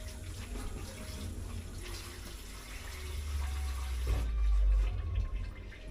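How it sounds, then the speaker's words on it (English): Hands being washed under a running kitchen tap: a steady close rush of water that swells louder toward the end and then cuts off sharply, with no speech. "Now, I've got to wash my hands."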